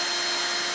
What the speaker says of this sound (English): So look at the drill when I operate it.